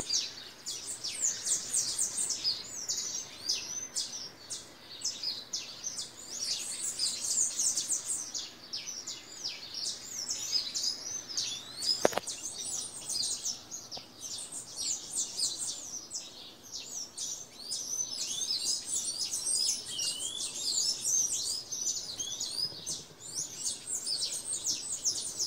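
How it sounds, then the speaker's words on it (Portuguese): Small birds sing continuously in a garden at around 4:30 in the morning, a dense overlapping chorus of bright chirps and trills that stays steady and fairly close throughout. "deixei esses passarinhos cantando aí para vocês"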